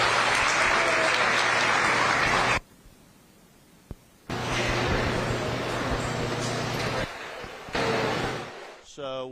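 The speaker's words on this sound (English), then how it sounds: "Let's give them a big round of applause" Loud crowd applause at a county youth fair that cuts off abruptly, a brief near-silent gap with a single click, then applause resumes strongly and fades at the end.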